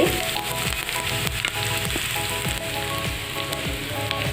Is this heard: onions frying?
yes